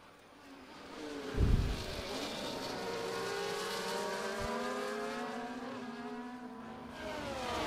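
Formula 1 race cars in a video game round the Belgium circuit, engines droning loud and continuous with shifting pitch as several cars run together, plus a brief thump early on.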